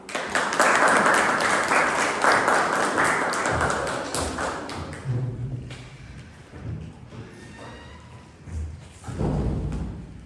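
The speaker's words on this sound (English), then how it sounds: "giving a big round of applause as we welcome our club president, Nancy Khurana" A Toastmasters meeting audience gives a round of applause welcoming the club president, dense clapping for about five seconds that fades into scattered taps, thumps and room movement.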